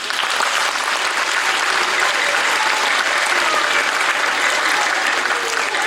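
A school concert audience applauds a music school orchestra, dense steady clapping from a full hall that stays loud and even throughout, with a faint murmur of voices underneath.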